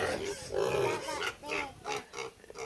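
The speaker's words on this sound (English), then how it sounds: "Here come this little pig." A pink pig on a farm gives a series of close grunts in uneven bursts, with a little rustling between them.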